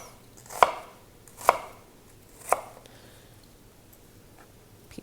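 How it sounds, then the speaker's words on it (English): A knife chops an onion into even pieces on a cutting board, three sharp, well-spaced thuds over an otherwise quiet kitchen. "we're going to chop our onion into even pieces"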